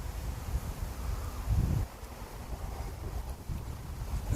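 Strong wind gusts buffet the microphone at an RC plane flying field, a continuous roaring rush with a heavier surge about midway, no talking.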